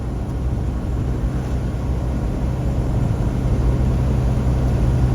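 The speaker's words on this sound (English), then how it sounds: "that's a cool shot of that plane taking off there" Airplane taking off, heard as a steady broad low roar of jet engine noise that holds at an even, moderately loud level without clear change, no voices.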